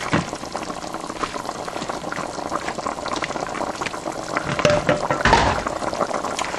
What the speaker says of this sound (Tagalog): kumukulo man siya